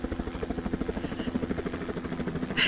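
A helicopter's rotor thumps steadily in a rapid rhythmic pulse, loud and close, in a zombie action film, with a brief sharp noise burst near the end.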